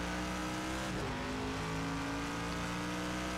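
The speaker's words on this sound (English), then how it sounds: "Audi, those Audi engines." An Audi R8 engine roars during a night race at Dubai in Project CARS 2, a loud sustained drone that shifts pitch briefly as it changes speed, with no speech.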